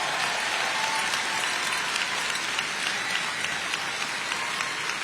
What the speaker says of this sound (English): please join me in a round of applause for the McCallum High School honor graduates